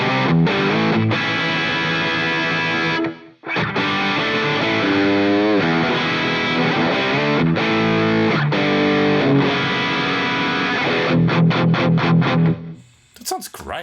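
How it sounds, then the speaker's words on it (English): An electric guitar through a plexi-style amp tone plays clean-ish chords and riffs with echoing delay and a wash of reverb, loud and close, with a couple of brief pauses. "there's the plexi, cleanish, with some delay, with some reverb"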